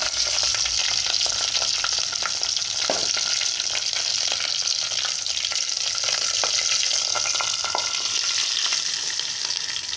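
Spice tempering sizzles loudly in hot oil for seasoning yogurt, a dense, close crackling hiss with scattered pops and stirring scrapes running unbroken throughout.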